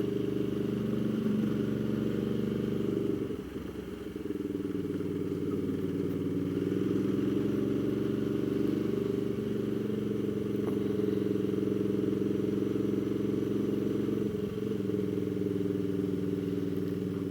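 A Ducati Multistrada motorcycle climbs a rough road, its engine droning loud, close and unbroken the whole way, with a brief dip and a few bumps and rattles from the uneven surface.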